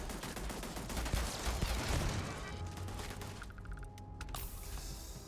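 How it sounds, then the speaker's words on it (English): A turret in the video game Starfield fires rapid bursts of gunfire, a dense crackling volley over rumbling battle noise, with mechanical clanks and an electronic tone near the end. "Oh, it's a turret."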